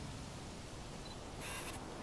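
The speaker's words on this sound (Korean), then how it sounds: "반셔터 누르고." A camera shutter button half-pressed gives a single faint, brief high-pitched electronic chirp over a steady background hiss in a quiet room.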